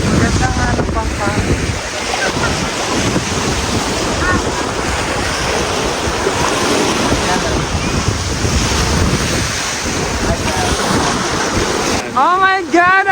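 Ocean waves breaking at Palad Sand Bar near Ungab Rock, a loud continuous wash of surf mixed with heavy wind buffeting, and excited voices rising near the end.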